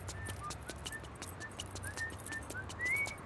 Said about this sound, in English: I like that he whistles the main theme, which is pretty good